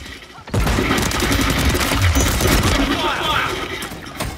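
Call of Duty multiplayer gunfire is loud and dense, a sustained barrage of rapid shots and impacts that starts abruptly and carries on without a break.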